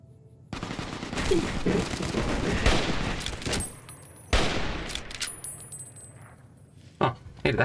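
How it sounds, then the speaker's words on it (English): A riot shotgun fires in Fallout: New Vegas, a rapid string of loud, close blasts that merge into a near-continuous barrage over several seconds, with a few more sharp shots later and metallic clinks between them. "Riot shotgun."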